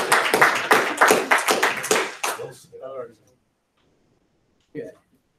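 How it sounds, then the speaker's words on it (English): A few people clapping at a county commissioners meeting, a short burst of distinct claps that fades out after about three seconds, followed by near silence and one brief voice. "Is applause allowed?"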